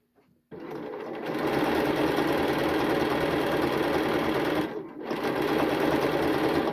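A sewing machine runs steadily while top stitching the front placket of a shirt, a close, even mechanical whir that starts abruptly, dips briefly near the end, then resumes.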